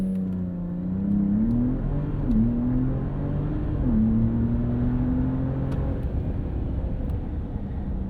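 The twin-turbo inline-six of a 2025 Ram 1500 RHO pickup launches hard, its engine note climbing through several quick upshifts in a steady, loud in-cabin pull.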